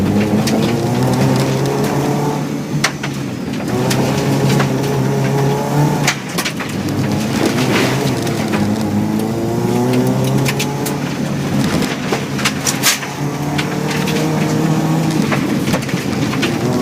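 A rally car driven hard on a Hyperfest stage, with a loud, near engine rising and falling through the gears in long revving sweeps, sharp bursts and clatter breaking in as it corners.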